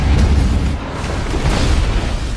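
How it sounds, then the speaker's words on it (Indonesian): A bomb blows up an aircraft in a sci-fi action film about an alien invasion, making a loud, deep rumbling boom that stays heavy and low, then fades a little into a rough roar with no voices. "langsung mengaktifkan bom sampai membuat pesawat itu meledak lalu jatuh di pedesaan Laos"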